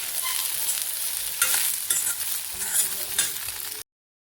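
Bari lentil dumplings fry and are stirred in a pan, a steady crackling sizzle with scraping stir strokes, close and clear with no talk, ending abruptly.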